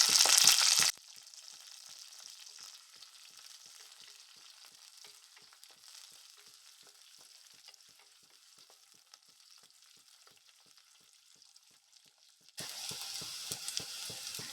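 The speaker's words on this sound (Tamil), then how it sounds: "வெங்காயம் நல்லா பொன்னிறமாக வதங்கிருச்சு" Sliced onions fry in oil until golden for mutton curry, sizzling and crackling steadily in a pan, louder at the start and again near the end, with gentler frying in between.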